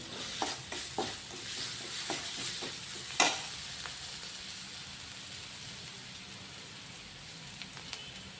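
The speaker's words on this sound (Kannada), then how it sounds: "ಇವಾಗ ನಾನು ಕರಿಬೇವು ಸೊಪ್ಪು ಹಾಕ್ತಾಯಿದ್ದೀನಿ" Curry leaves hit hot oil in a pan where fish roe is cooking, giving a soft, steady sizzle broken by a few stirring clinks and one sharper crackle, quiet and close with no talk.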